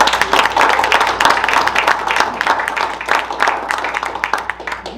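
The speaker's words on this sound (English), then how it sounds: "Can we give Laurel a round of applause?" An audience at a school district Board of Education meeting claps in a dense, continuous round of applause, fairly near and fading slightly toward the end.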